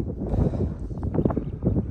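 Strong wind buffets the microphone on a hilltop at Black Stone Hill in Abra, low rumbling gusts that swell and ease in uneven pulses, loud and close, with no voices.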